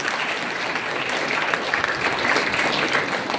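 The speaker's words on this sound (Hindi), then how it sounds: "जोरदार तालियां दीदी के लिए" Loud, close audience applause at a gathering, a thick continuous wash of many hands clapping at steady intensity throughout.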